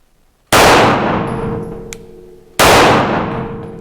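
Two loud, close shots from a Grand Power Mk23 pistol firing 124 NATO rounds, each a sharp crack followed by a ringing decay, with a steel target clanging between them.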